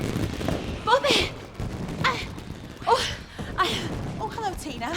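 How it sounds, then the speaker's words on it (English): Fireworks crack and pop in scattered bursts outdoors, under steady background noise and voices. "Well, hey, it's the fireworks."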